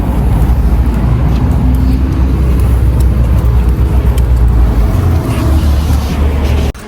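A steady, loud low rumble of road and engine noise heard from inside a moving car, with constant wind and tyre drone throughout that cuts off abruptly near the end.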